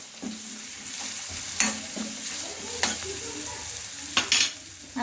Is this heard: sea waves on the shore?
no